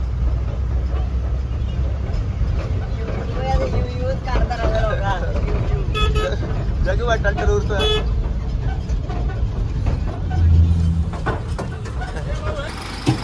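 A truck engine drones and rumbles steadily while horns toot in short bursts, with voices chattering over the traffic noise.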